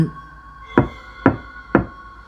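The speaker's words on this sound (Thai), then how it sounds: "เสียงเคาะประตูห้องได้ดังขึ้น" Three evenly spaced, sharp knocks on a room door ring out about half a second apart, close and distinct over a faint steady hum.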